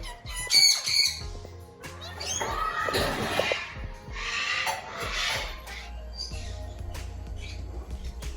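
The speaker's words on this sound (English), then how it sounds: "You probably hear a lot of the birds in the background" Pet birds squawk loudly and harshly indoors in repeated raspy bursts, some close and piercing, mixed with chirps and shuffling noises.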